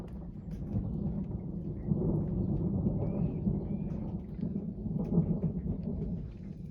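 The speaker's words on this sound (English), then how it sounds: "Thundering at the moment." Low rolling thunder rumbles under steady heavy rain on an off-grid homestead, distant and fairly quiet, with continuous patter and no talking.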